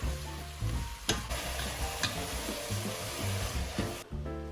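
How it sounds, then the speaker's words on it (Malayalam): Ginger, garlic and green chilli paste frying in a pan while being stirred, a steady close sizzle with scraping stir strokes and occasional sharper clicks, no talk. "ഇഞ്ചി, വെളുത്തുള്ളി, പച്ചമുളക് പേസ്റ്റ് ഇട്ടു. കുറച്ച് നല്ലപോലെ ഇളക്കുക."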